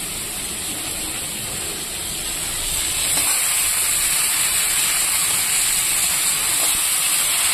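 Chopped bottle gourd goes into a pan of oil that already holds fried fish and green chillies, giving a loud, continuous sizzling hiss that swells slightly after a few seconds.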